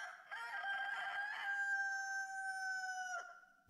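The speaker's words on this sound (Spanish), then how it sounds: "Lo que sí se oyó, muy a lo lejos, fue un canto de gallo" One long rooster crow rings out faint and distant, a sustained wavering call that fades at the end, with no voices over it.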